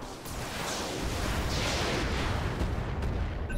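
Gunfire in the video game Roguepoint: a dense, continuous roar of distant shots and rumbling blasts runs without pause across the whole stretch, loud and even.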